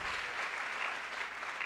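Applause from an audience at a health-company business opportunity meeting, a steady continuous wash of clapping from many hands, fairly loud and sustained throughout with no talk over it.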